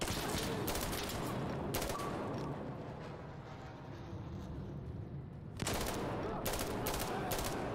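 Rapid bursts of gunfire in Insurgency Sandstorm, loud rattling volleys at the start and again after a quieter lull in the middle, with no voices over them.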